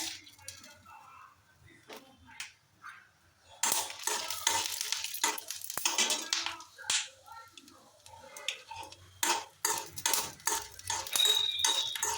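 Peanuts and dried red chillies fry in a pan for a red chilli chutney, giving scattered crackles, clinks and scraping stirs that come in irregular bursts, near and fairly quiet, with no one talking.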